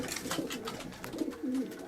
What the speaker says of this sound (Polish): Jak widać gołąbki są bardzo oswojone, Joasia kocha je